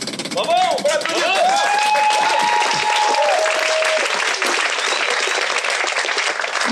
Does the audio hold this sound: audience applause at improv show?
yes